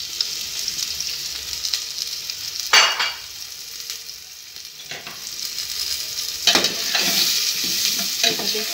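Garlic and onion frying in oil in a pan, a continuous sizzle punctuated by several scraping stirs and clinks of a utensil against the pan, close and without speech.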